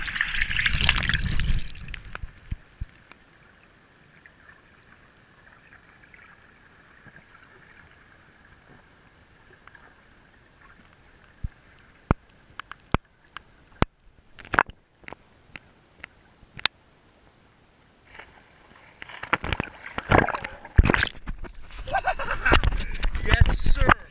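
A rock carrying a GoPro is dropped into water and sinks; a brief splash comes early, then muffled underwater bubbling and trickling with a few sharp clicks and knocks, and a burst of sloshing near the end, with voices heard at moments.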